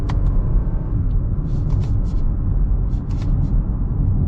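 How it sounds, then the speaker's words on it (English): A 2022 Lexus RX 350 in manual mode is eased into the throttle, its engine giving a steady, smooth rumble that builds gently, close and loud, with no voice over it. "So I'm going to kind of roll into the throttle."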